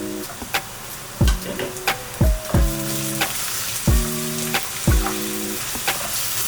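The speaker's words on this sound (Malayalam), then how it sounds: "ഇനി ഇതിൻ്റെ പച്ചമണം മാറുന്ന വരെ നമുക്ക് നല്ലതായിട്ടൊന്ന് വഴറ്റിയെടുക്കണം." Onions with garlic, ginger and chilli paste sauté in a pan for a curry leaf chicken curry, a steady sizzle broken by repeated close metallic scrapes and knocks of a spatula stirring.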